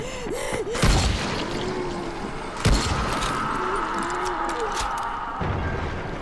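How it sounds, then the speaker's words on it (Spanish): Explosions in the video game Dying Light, two heavy booming blasts about two seconds apart amid dense game noise and a lingering rumble, with a gasp-like sound near the start. "las explosiones se están llevando muchos por delante"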